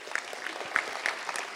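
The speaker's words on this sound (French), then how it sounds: "on peut l'applaudir aussi" Graduation ceremony audience at Sciences Po Grenoble claps for a graduate, giving a brief, light patter of scattered hand claps from a modest crowd.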